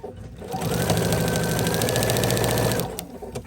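A sewing machine stitches plush sherpa faux fur fabric at a slower pace, its motor rising into a steady rhythmic whir with fast needle chatter for a few seconds before winding down.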